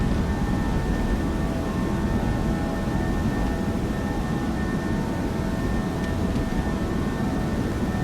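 Airbus A320 jet engines spooling at takeoff thrust on the runway, a steady loud broadband roar with a faint high whine, continuous for the whole span with no voices.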